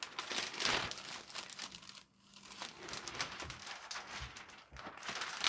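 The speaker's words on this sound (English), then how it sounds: "So what I may do is use the cello wrap this way and cut down this way." Cellophane wrap crinkles and rustles up close while being cut for a makeup gift basket, in bursts of crackling with a brief quiet gap midway.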